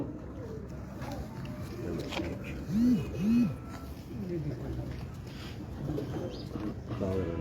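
Dubai teddy pigeons coo in a loft, with two distinct rising-falling coos standing out near the middle over steady background bird murmur, while someone talks intermittently nearby.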